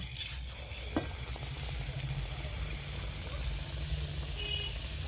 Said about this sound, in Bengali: তো এইভাবে কিন্তু ভালোভাবে ডুবিয়ে নিচ্ছি ব্যাটারের মধ্যে, দিয়ে এবার তেলের মধ্যে ছেড়ে দেব।